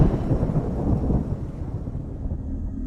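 A loud thunder crack with heavy rolling rumble, close and booming, fading into a softer low roar over about three seconds, with rain hissing underneath and no voices.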